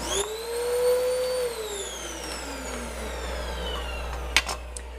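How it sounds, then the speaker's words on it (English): A vacuum cleaner whines and hums close by, its motor pitch swelling and then sliding downward as it runs, with a brief clunk near the end. "Quick vacuum."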